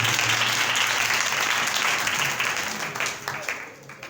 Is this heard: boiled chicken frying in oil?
no